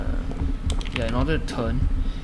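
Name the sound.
computer keyboard keys pressed while playing a game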